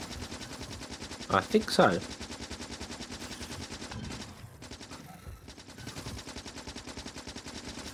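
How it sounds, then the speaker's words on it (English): Rapid machine-gun fire in the factory-building video game Factorio rattles steadily throughout, with a brief louder burst early on and someone speaking briefly over it. "I think they updated the machine gun sound, didn't they?"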